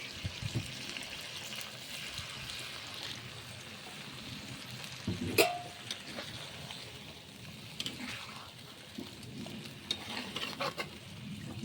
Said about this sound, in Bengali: সামান্য এখন একটু জল দিয়ে দেবো। জলটা আমি কিন্তু গরম করে নিয়েছি।